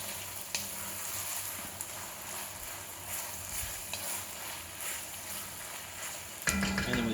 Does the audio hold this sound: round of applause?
no